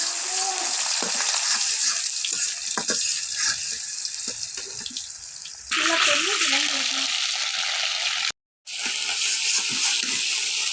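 Onions fry in oil in a pan for a chicken and bottle gourd curry, a steady close sizzle with stirring scrapes, briefly louder after a fresh addition, a short voice partway through, and a momentary cut to silence near the end.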